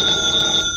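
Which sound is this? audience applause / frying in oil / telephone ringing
telephone ringing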